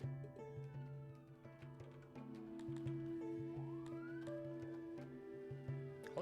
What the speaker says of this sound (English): Holy fucking sirens.